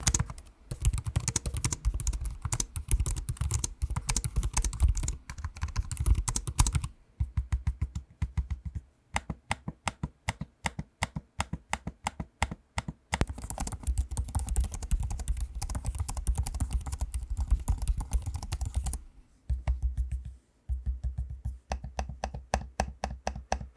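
Rapid, close clicking of Lenovo Slim Pro 9i laptop keys being typed on in bursts, with brief pauses between stretches of typing and no voices.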